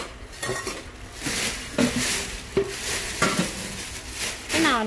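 Stainless steel cooking pots, including a 1.5 kg pot 24 cm across, are handled and knocked together, giving a steady stream of close metallic clanks and scrapes with sharper clinks at intervals.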